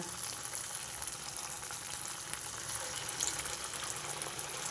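Corn and jaggery vadas fry in hot oil, giving a soft, steady sizzle and crackle that stays even and fairly quiet throughout, with no voices.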